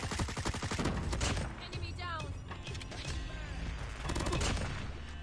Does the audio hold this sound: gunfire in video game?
yes